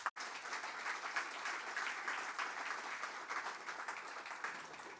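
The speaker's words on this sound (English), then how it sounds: "Please join me in giving them a round of applause." An audience at a startup pitch showcase breaks into sustained applause, dense even clapping filling the whole stretch after a brief gap at the start.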